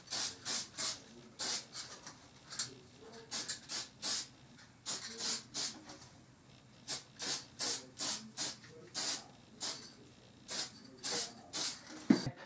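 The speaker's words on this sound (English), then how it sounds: "I'm going to do the second coat of lacquer" Short, close hissing bursts of spray lacquer land on a trumpet leadpipe in a quick, steady rhythm of around two dozen puffs, each lasting a fraction of a second, with quiet gaps between them.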